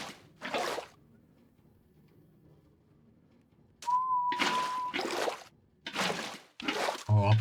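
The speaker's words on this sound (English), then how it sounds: "I'll probably get a copyright strike for whistling there." A lone whistled western film tune holds a steady pitch between quiet stretches and loud bursts of noise.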